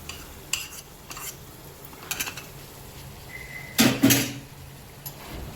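A spoon stirs paneer makhanwala masala mixed with milk in a pan, scraping in a few short bursts with one louder clatter near the end, no talking.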